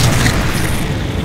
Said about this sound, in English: Alright, grenade launcher.